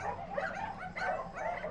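Rescued dogs bark and yip in a chorus at a food delivery van arriving at an animal rescue, a steady overlapping din of mid-distance barks with no pauses.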